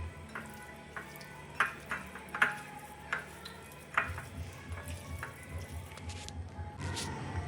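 Marinade of coriander powder, turmeric, salt and butter is stirred in a bowl. The mixing gives soft, fairly quiet, irregular clicks and squelches with a steady low background underneath.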